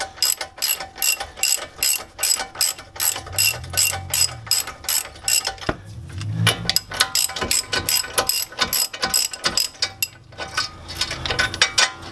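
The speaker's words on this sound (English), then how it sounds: "now we're just torquing everything to manufacturer specifications" A hand ratchet torques brake caliper and rotor bolts during a brake installation, producing loud rapid clicking runs in repeated strokes with brief pauses and occasional metallic clunks, close up and without talk.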